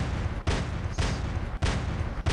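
Weapon fire in the War Robots video game while shooting at a Griffin robot: loud bursts of gunfire in repeated volleys, each sustained for about half a second with brief gaps between them.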